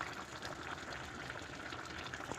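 Plov with smoked meat bubbles at a steady simmer in a pot, a continuous soft watery churning with faint stirring, quiet and close with no voices.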